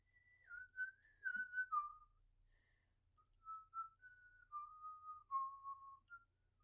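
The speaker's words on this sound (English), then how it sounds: "It's hard to whistle with this thing on my lip." A person whistles a soft, wavering tune alone, with a string of short, fairly quiet notes drifting up and down and brief pauses between phrases in a calm indoor setting.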